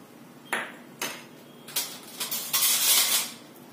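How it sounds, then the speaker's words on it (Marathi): A spoon mixes hot oil into flour for dal kadakani, clinking and scraping against the bowl in several distinct knocks that run into a brief stretch of scraping, close and moderately loud. "चमच्याने सगळं एकत्र करायचं"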